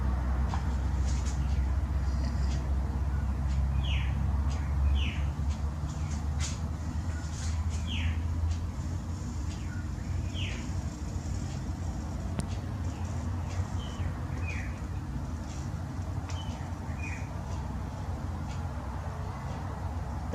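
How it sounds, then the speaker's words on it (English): A pair of woolly wagtails calling near their nest outdoors: faint, short chirps repeating every second or two at a distance, over a steady low rumble of background noise. "Those little birds you can hear in the background, a pair of woolly wagtails"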